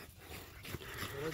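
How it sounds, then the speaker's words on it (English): Young micro exotic bully puppies whimper and whine softly outdoors in muddy, wet conditions, brief faint cries over low background noise. "Let's let the puppies out so you guys can see them."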